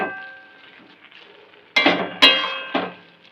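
Carrots and sugar stirred in a cooking pot, a spoon clattering against metal in three or four loud, close scraping clinks after a quieter stretch of soft stirring.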